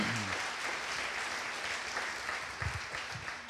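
A church congregation claps together during a service, a sustained wash of applause at low volume that sounds somewhat distant, with a few faint low thumps near the end.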